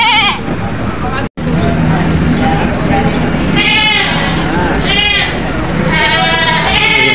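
Goats at a livestock auction market in Lucena bleat loudly and repeatedly close by, several calls overlapping amid crowd noise and people talking throughout.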